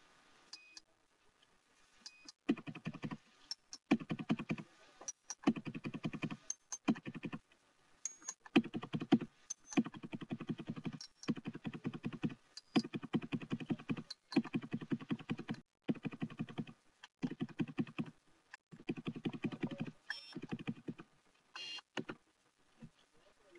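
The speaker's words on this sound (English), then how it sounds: "Now, I'm going to push the up and down keys" Bursts of rapid keyboard typing, clattering keys in short runs separated by brief pauses, close and clear with no talking.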